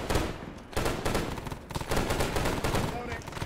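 Incoming gunfire during the battle for Hue City: dense bursts of rifle and automatic fire crackle continuously at close range, with repeated sharp cracks overlapping throughout and a few voices faintly mixed in.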